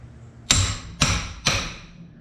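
Three sharp, ringing metallic blows land about half a second apart, each one fading quickly, as a hammer drives a chisel against metal during a 1986 Chevy K20 truck teardown.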